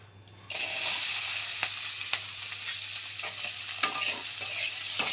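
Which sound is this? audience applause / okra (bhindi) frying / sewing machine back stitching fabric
okra (bhindi) frying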